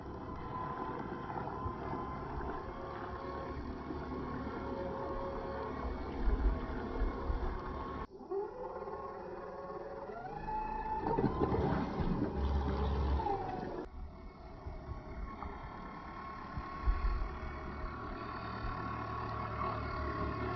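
A Joysway E1 Racebird RC hydrofoil boat running on water at half throttle, a steady electric motor whine with rising and falling pitch as it passes, with wind noise over the microphone.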